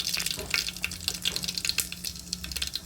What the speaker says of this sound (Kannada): ಎಣ್ಣೆ ಕಾಯಬೇಕೀಗ ಸಾಸಿವೆ ಹಾಕ್ತೀನಿ